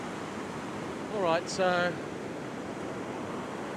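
Ocean surf washes steadily onto an Australian beach, a broad, constant hiss of waves and wind with someone briefly talking over it.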